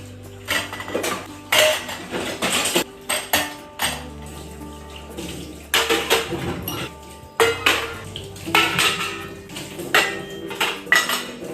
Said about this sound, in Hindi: तो बर्तन भी वॉश हो गए थे